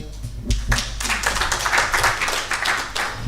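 An audience at a conference learning session applauds after a presentation, a dense patter of claps near and across the room, sustained for a few seconds.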